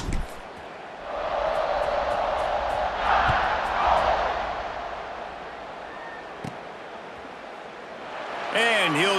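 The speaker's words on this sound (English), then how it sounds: "this crowd is buzzing after that last score." A stadium crowd in the EA Sports College Football 26 video game buzzes in a loud, sustained roar that swells and eases over several seconds, and a commentator's voice joins near the end.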